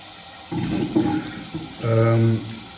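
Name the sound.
running water rinsing a straight razor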